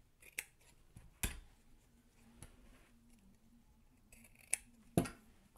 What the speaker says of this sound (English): Then you can cut this part like this.